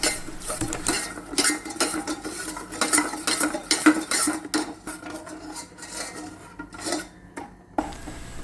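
A utensil stirs caramelizing sugar in a pan for a banana milk drink, giving repeated scraping and rubbing strokes against the metal in an uneven rhythm, close and fairly loud, without speech.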